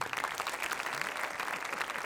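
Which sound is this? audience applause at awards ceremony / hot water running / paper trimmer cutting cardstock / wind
audience applause at awards ceremony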